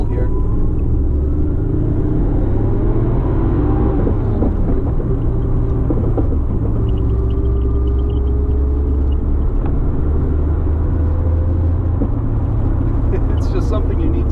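A 1984 Maserati Biturbo pulling through the gears on a test drive, its engine a steady low rumble heard from inside the cabin with rising and falling pitch across shifts, continuous and fairly loud throughout.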